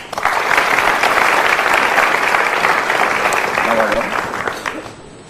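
An audience at a motivational seminar breaks into loud, close applause that builds quickly, holds strong for several seconds, then tapers off, with a brief voice near the end.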